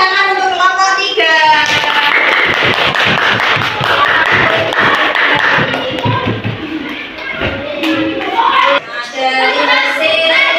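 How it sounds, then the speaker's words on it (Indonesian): A classroom of students claps for a student group, a burst of hand claps and taps in the middle with children's voices and talking before and after. "Tepuk tangan untuk kelompok 3."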